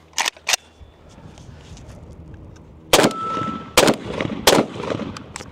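Sharp rifle shots crack from a PSA Krink fed by Bakelite converted magazines: a quick pair, a pause, then three more spaced reports, each loud and close with ringing decay.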